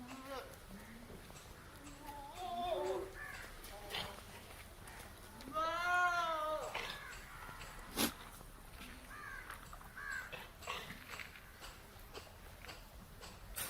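Goats bleating in a raised goat farm shed, several wavering calls at moderate distance over a constant background hum, with occasional knocks and scuffles.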